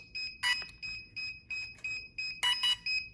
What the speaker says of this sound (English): Then you hold until it beeps.